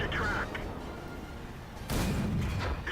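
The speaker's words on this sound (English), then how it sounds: "he takes a shot from the AMX-13 F3 artillery, the French artillery" A French AMX-13 F3 artillery piece fires in World of Tanks, a single heavy blast bursting out near the end of the clip after a quieter rumbling stretch.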